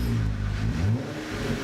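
A deep Jeep Wrangler JLU engine revs up and settles through a throaty aftermarket exhaust, loud and close, with a brief rising growl before easing back to idle.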